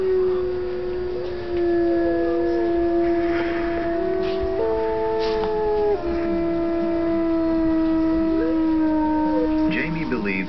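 Wolves howl in long, sustained, mournful tones that slide up and down in pitch, with overlapping voices and short breaks, steady and clear throughout.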